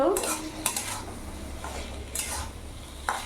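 Okra sizzles gently in a pan for a vegetarian mustard-poppy seed dish while a metal spoon stirs and scrapes it, with a few sharp clinks against the pan over the soft, steady frying.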